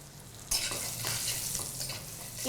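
Slit green chillies and panch phoron hit hot mustard oil, erupting into a sudden loud, hissing sizzle that carries on steadily, close up and without talk.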